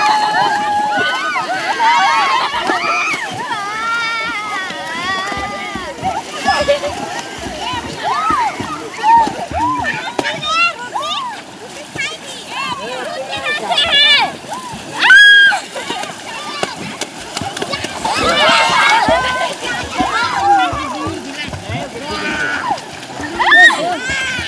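Children jump and splash in river water after a Karma festival immersion, with repeated splashes and sloshing mixed with loud crowd voices and shouting throughout.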